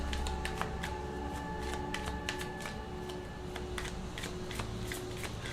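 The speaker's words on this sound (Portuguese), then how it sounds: "Vou pegar mais 2 cartas." Tarot cards being shuffled and drawn, a steady run of crisp riffling flicks and snaps with no talk, close and fairly loud throughout.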